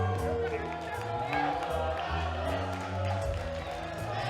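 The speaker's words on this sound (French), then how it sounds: "La foule qui répond encore avec leur honnêteté naturelle" At a live wrestling show, the crowd cheers and shouts in a loud, sustained roar. A commentator's voice runs over the noise the whole time.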